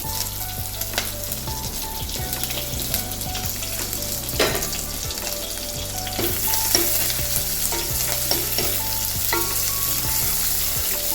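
Shallots, ginger, green chillies and curry leaves fry in hot oil in a pan, giving a steady, close, continuous sizzle with light stirring clinks and no talking.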